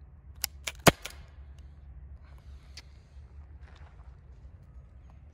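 A Byrna HD non-lethal launcher fires kinetic rounds outdoors, giving three or four sharp, close pops in quick succession near the start, followed by quieter handling clicks over faint background noise.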